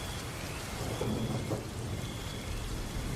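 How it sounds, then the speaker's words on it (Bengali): A violent nor'wester thunderstorm at night: heavy rain and wind roar steadily throughout, and deep rumbles of thunder swell near the middle. No voices are heard. "বাতাসের তীব্রতা বাড়তে বাড়তে একসময় শুরু হলো তুমুল ঝড় বৃষ্টি।"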